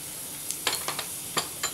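Ajwain seeds crackle and pop in hot oil in a pan, a handful of sharp, brief spits over a soft steady sizzle, close and fairly quiet, with no talking.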